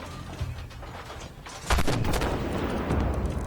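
Tank cannon shots boom in the Armored Warfare video game, with a heavy blast about halfway through followed by sustained loud rumbling and mechanical noise, with no talk.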